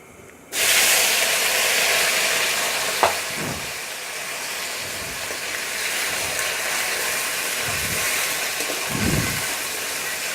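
Taro root (arvi) dropped into fully heated ghee and frying on a high flame: a loud, steady sizzle that bursts in abruptly and keeps going, with occasional soft low thumps from stirring.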